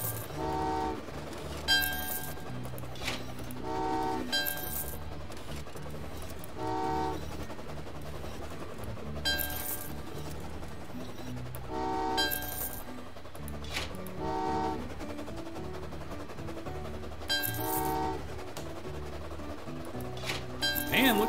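Trains in Train Valley 2 run with a repeated pattern of short horn toots at regular intervals over a steady rolling rumble, while a person talks throughout.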